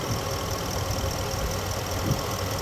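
Ford F350 XLT crew cab dually 4x4 from 2013 with a 6.8 engine idling steadily, an even low rumble with a faint ticking texture, close and alone.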